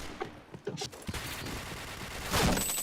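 Gunfire in a video game shooting match, a rapid burst of loud shots near the start followed by a dense rolling rattle of fire and a louder surge near the end.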